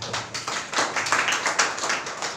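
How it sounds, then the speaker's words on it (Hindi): A church congregation clapping together, a dense, fairly loud stream of many hands with a loose rhythmic pulse and no talking over it. "ताली बजाओ"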